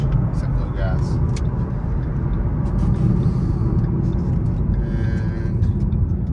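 A Roush Ford Mustang cruises in second gear at about 1500 RPM, heard from inside the cabin as a steady, continuous low engine and road rumble that stays even throughout.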